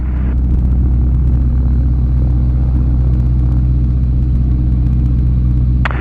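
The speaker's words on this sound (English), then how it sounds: "We want to idle somewhere around 1800 engine RPMs." Gyroplane engine idling at around 1800 RPM during ground checks in flight training, a loud steady low rumble that holds constant throughout with no talk.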